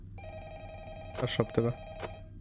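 A telephone in the FNAF In Real Time video game rings with a steady electronic tone through the whole moment, while someone briefly speaks over it.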